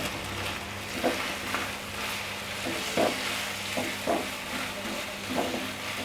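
Minced meat and potatoes with powdered spices stirred in a pan, a steady sizzle of frying under periodic scraping strokes of the spoon, close and even, with no talking.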